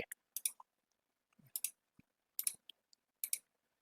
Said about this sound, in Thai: ผมคลิกไป